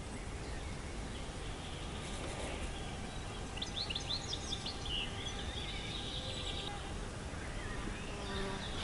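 Insects buzz around a quiet riverside float-fishing spot in Ukraine, a thin whining hum over steady outdoor noise, joined by faint bird chirps partway through.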